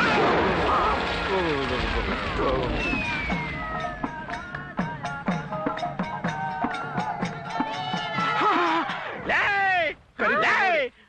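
Loud, chaotic blast and crash sounds from a bomb going off, mixed with shouting voices and dense action-scene noise, with sharp bursts late in the clip.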